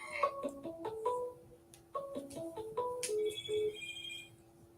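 Phone ringtone from incoming calls chimes softly in short melodic bursts, repeating with brief pauses and a higher tone at the end, quiet and alone.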